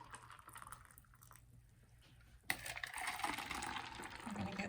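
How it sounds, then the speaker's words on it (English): Hot water poured into cups for a heat flow experiment: after some quiet handling clatter comes a sudden splash, then a steady, close trickling pour that keeps going to the end. "So I'm going to go ahead and fill up the cups halfway with hot water."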